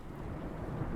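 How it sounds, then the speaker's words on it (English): Steady rumbling thunderstorm ambience from the horror video game The Forgotten Tapes: Twisted Forms, a continuous low roar of rain and distant thunder filling the whole moment without speech. "It's a spooky thunderstorm."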